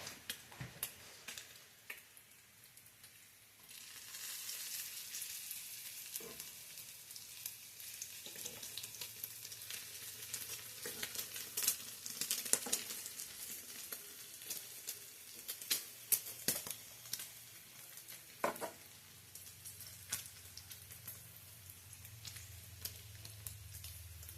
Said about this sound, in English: I think I'll flip the bacon again.